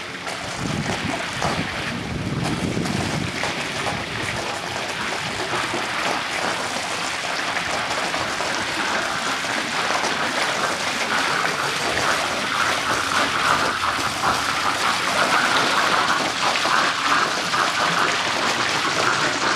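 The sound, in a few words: pool pump system gurgling with air in the lines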